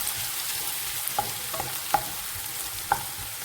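Ginger and garlic frying in oil for a beef fry, a soft steady sizzle with a few light scraping strokes of a spoon stirring the pan, close and unaccompanied by talk.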